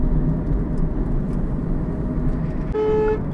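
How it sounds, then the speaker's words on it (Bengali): Congested highway traffic at office hours on a busy road in Bengal heading toward Kharagpur and Haldia: a dense, steady roar of passing vehicles, with a car horn sounding near the end. "দেখতেই পাচ্ছেন কিরকম জ্যাম রাস্তায়, অসংখ্য গাড়ি বেরিয়ে গেছে"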